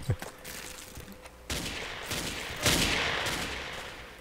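Video game gunfire from Ace of Spades crackles in short bursts, fairly quiet and distant, with a louder volley building toward the end.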